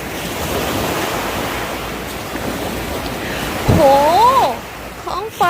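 Sea waves wash onto Pranburi beach in a steady rushing hiss with wind buffeting, and near the end a person's voice rises briefly over the surf.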